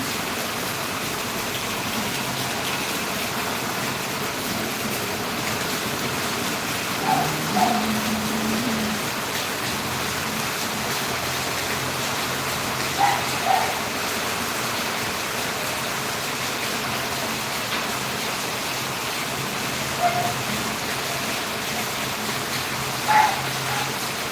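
Heavy rain pours steadily and close by in Valliyur, a dense continuous wash of falling water with a few brief sharper spikes that could be distant thunder or drips; no talk.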